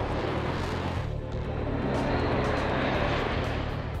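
Aircraft flying over the Bournemouth Air Festival, a loud sustained roar of engine noise that fills the scene steadily, without any talking.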